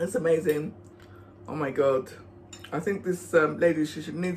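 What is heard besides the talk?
None of the usual background noises is heard.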